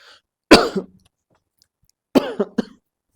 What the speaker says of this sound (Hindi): सॉरी भाई, खांसी ने परेशान कर दिया।